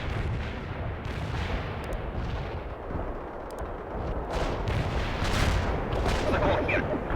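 An artillery barrage in the World in Conflict video game, heavy booming impacts and rumbling blasts that roll in continuously and swell louder toward the end, with a faint radio-style voice underneath.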